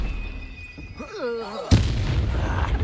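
A Confringo spell blast in a video game lands as a single sharp, loud burst with a rumbling tail, following a brief whooshing, wavering cast sound.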